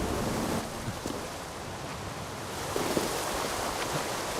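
A waterfall in the game Assassin's Creed Valhalla gives a steady, dense broadband rush. The roar is continuous and fairly close, with a few faint thuds and tones mixed in and no voices.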